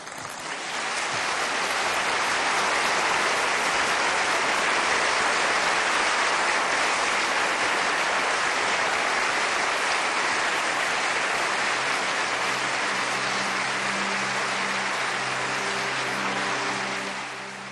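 Long, dense applause from an assembly hall after a speech by Salvador Allende, loud and steady like heavy rain, swelling in and holding for many seconds before a faint tone enters near the end.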